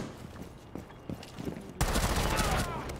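Gunfire in a first-person shooter game on a skyscraper map, with scattered shots early on and then a sudden loud, dense burst of firing that fills the final second under the game's sound.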